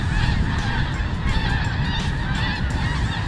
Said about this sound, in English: These snow geese get on these fields by the thousands.